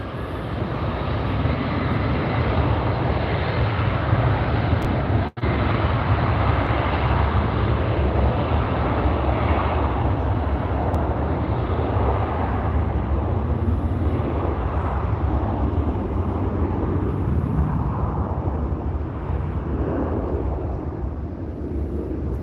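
Jet airliners taking off at Salt Lake City Airport give off a loud, continuous broadband engine roar with rumbling lows that holds steady throughout, heard from a distance outdoors with no voices.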